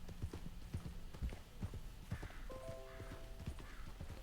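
Horse hooves clip-clop in Red Dead Redemption 2, a steady walking rhythm of distinct hoof beats with a faint whinny and soft ambient hum behind, no one talking.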